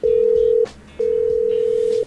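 Steady telephone tones sound while a call is being placed: two long sustained beeps separated by a short pause, loud and clean with no voices.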